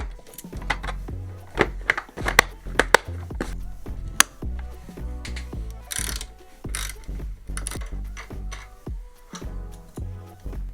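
A micro ratchet wrench backs out screws during a 990 Adventure motorcycle rebuild, giving rapid bursts of crisp metallic pawl clicks with sharp ticks and pauses between turns, close up and fairly loud, no speech.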